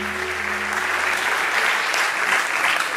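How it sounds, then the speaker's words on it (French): A studio audience on a television variety show breaks into dense, sustained applause that is close and loud, with a brief low tone fading out at the start. "ce qu'on va applaudir pour Charles Maïsi"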